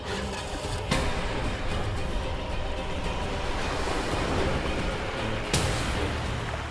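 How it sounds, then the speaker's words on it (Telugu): Rushing water in a TV drama scene makes a loud, continuous roar like surging waves, with two sharp bursts near the start and later on, and no talking. "నీళ్ల శబ్దం ఎక్కడి నుండి వస్తుంది?"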